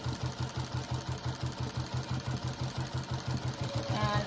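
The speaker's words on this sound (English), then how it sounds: "I'm just basically sewing this square onto this red one, red checker one." A sewing machine stitches a quilt square onto a red checkered square for a rag quilt, a steady fast rhythmic chugging of the needle that runs evenly throughout, up close and without talking.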